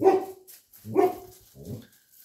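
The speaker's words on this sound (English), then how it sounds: "And I've got dogs barking." Dogs bark nearby, loud and close, in three separate barks spaced about half a second apart, with a faint tone trailing after.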